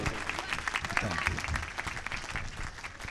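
Audience at a church convention in Kot Baray Khan applauding to welcome speakers: brisk, uneven clapping from a gathered crowd, close and fairly loud, with voices mixed in.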